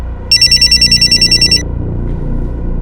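Electronic telephone ringer trills in a rapid run of about a dozen bursts for just over a second, loud and close, then stops, leaving a quiet room.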